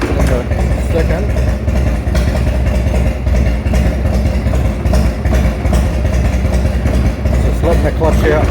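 A Yamaha XV1600 Road Star motorcycle engine idles with a steady, loud, low rumble, close by and continuous throughout.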